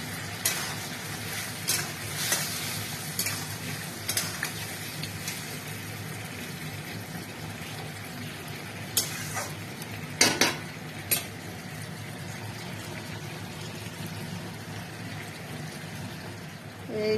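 Chicken pieces for chilli chicken sizzle faintly in a pan while a utensil scrapes and clinks against it in scattered stirring strokes, with a voice speaking softly at times.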